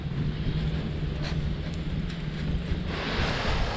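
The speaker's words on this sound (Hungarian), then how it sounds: "Még mindig erősen fúj a szél" Strong wind buffeting the microphone at a seaside beach on the Greek coast, with a constant roar of waves and surf that swells louder toward the end.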